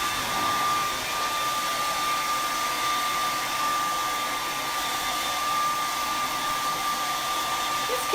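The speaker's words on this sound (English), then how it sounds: "This is just a regular hair dryer that I'm using" A regular hair dryer on high heat blowing over freshly painted work, a steady, even whooshing hiss with a constant motor whine that holds unchanged throughout, close and uninterrupted.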